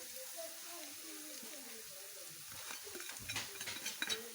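Spices and eggplant masala roasting in a pan while being stirred, a soft continuous sizzle with scraping spoon strokes that grow busier and louder toward the end, with a voice talking over it.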